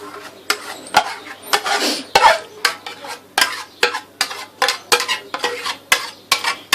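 A spoon repeatedly scrapes and taps against a dish while cream is poured and spread over baked basbousa, giving a steady series of close, sharp clinks and soft smearing strokes.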